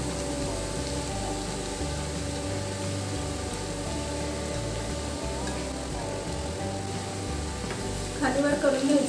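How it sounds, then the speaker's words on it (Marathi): Grated carrot frying in ghee for halwa, with a steady close sizzle under stirring and a brief clatter near the end. "गाजर तुपामध्ये छान खालीवर करून झालेला आहे"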